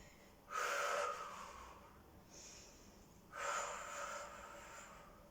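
Patterned breathing during a foam roller session, two strong, close exhalations and inhalations several seconds apart, breathy and slightly snorting, with quiet pauses between.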